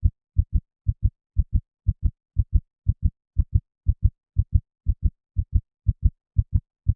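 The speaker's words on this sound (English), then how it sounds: "The only thing left was the sound of her racing heartbeat." A racing heartbeat sound effect pulses in steady, quick double thumps, deep and close against total silence, without any voice.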